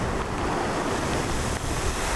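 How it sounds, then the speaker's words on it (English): Storm-whipped waves on Lake Michigan surge and crash in a steady, loud roar of surf, with gusting wind buffeting the microphone throughout and no voices. "The approaching storm did whip up the waves on Lake Michigan"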